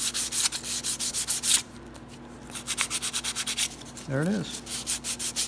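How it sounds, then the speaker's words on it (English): Sandpaper rubbed by hand over the serial number stamped on a stripped-down engine block, a near scratchy back-and-forth in quick repeated strokes, with a pause partway and a short spoken remark. "Let me come in and just hit this with a little paper."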